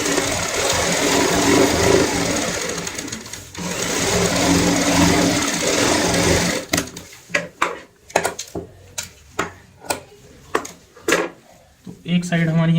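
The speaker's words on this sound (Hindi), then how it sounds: "इसी के साथ में इस तरीके से पलटते हुए जिप में दूसरी सिलाई लगाएंगे" A sewing machine stitches a zipper onto fabric, running in a steady close whirr for several seconds and then giving way to a series of sharp, separate clicks and knocks as the work is handled. Speech is faintly present.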